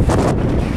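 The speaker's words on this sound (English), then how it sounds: "The wind is crazy." Strong, cold wind near Sani Pass in eastern Lesotho buffets the microphone in a continuous loud roar, dense and rumbling with no pauses.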